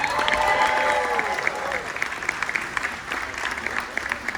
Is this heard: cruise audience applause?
yes